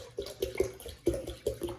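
Water sloshing and splashing in short bursts as it is poured by hand during a science club experiment, several uneven pulses close by with no talk.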